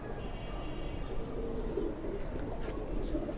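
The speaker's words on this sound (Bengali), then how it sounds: "এই যে আমাদের সিলভার কবুতর দেখেন" Silver pigeons coo in soft, low, repeated calls over a dense, steady background murmur, with no talking.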